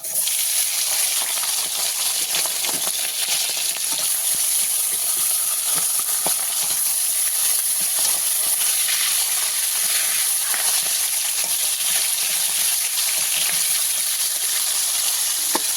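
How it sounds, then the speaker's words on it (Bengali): Steady loud sizzling and hissing of hilsa fish heads frying in hot oil, continuous throughout with occasional small pops and crackles. "এবার আমি মাছের মাথাগুলো ভেজে নেব"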